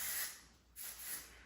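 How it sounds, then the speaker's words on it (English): Dry texturizing hair spray sprayed in short sections, a close airy hiss in two bursts with a brief pause between. "gonna take the dry texturizing spray and I'm just gonna take little sections"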